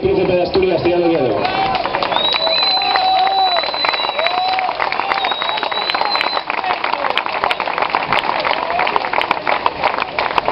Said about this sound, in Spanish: El aplauso para el equipo checo